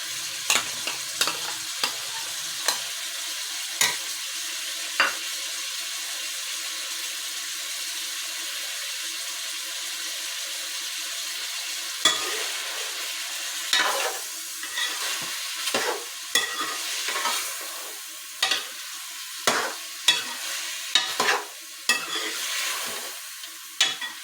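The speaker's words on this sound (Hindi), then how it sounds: "इस लहसुन के पेस्ट को हमने इसमें मिक्स कर लेना है ताकि गोश्त की स्मेल ना आए।" A spoon stirs garlic paste into beef in a pot, scraping and clinking at an irregular pace over a steady, close sizzle of frying meat, with no talk.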